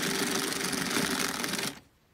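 A 22-needle circular sock knitting machine is cranked by hand with a dense, fast rattling and whirring clatter, close and loud, that stops abruptly near the end.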